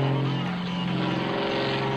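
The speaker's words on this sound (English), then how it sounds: "So much power from that 400 horsepower Lycoming engine, tuned for him by Lycon." A 400 horsepower Lycoming engine tuned by Lycon pulls an aerobatic airplane through snap rolls at an airshow, producing a loud, sustained droning roar with a strong steady tone.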